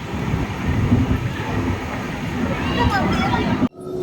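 The Antyodaya Express pulls into Thirumangalam station with a loud, close, continuous rumble and rattle of the rail cars, cutting off abruptly near the end.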